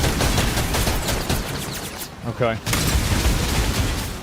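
Bombs thrown by a big bear character named Vladimir blast in Path of Exile, a dense, continuous barrage of loud explosions and crackling gunfire-like bursts, with a brief lull and a short spoken word in the middle.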